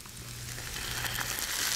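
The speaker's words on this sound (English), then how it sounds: "Cool, it's gonna sizzle a bit." Honey and soy-style sauce sizzling in a hot pan with tofu and sweet potato, a bright steady hiss that grows slightly louder over a couple of seconds, no talk.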